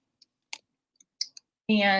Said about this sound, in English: sorry, I'm just typing. I really need to get a better keyboard.